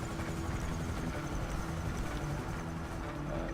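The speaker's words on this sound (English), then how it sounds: "let's get the chopper home" A helicopter flying overhead at a distance, its steady rotor drone and engine hum running continuously at moderate loudness with no voices.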